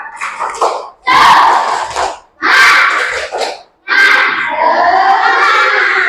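Schoolchildren in a classroom shout a spirit clap-and-cheer together in four loud, close bursts of unison chanting separated by short pauses.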